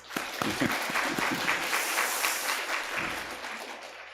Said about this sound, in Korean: 우리 축하해 박수 한번.